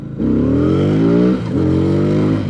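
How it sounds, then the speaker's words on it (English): A loud VOGE CU625 motorcycle engine revs up with rising pitch, dips briefly, then climbs again in a second steady rev, close and continuous. "this motorcycle is powerful as hell"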